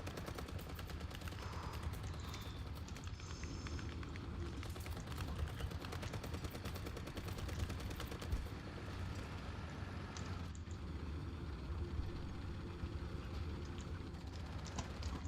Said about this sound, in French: Pourquoi il y a le Starman qui me tire dessus?